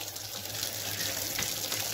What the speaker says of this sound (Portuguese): Vou colocar água limpa.